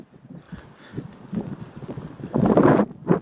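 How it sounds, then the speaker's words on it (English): Strong desert wind buffets the microphone outdoors in gusty, uneven bursts, building to heavy roaring blasts toward the end. "It's way too windy."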